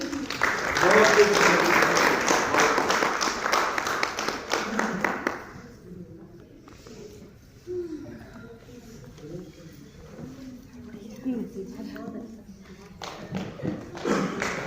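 An audience at a Lucknow event applauds loudly after a song performance, with dense clapping lasting about five seconds. The clapping then gives way to someone talking over a quieter hall.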